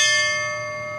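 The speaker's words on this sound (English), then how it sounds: "the station's bell and siren rang for the last time" A fire station bell at the Colfax Fire Department rings with one struck, sustained metallic tone that fades slowly, loud and close with no voices.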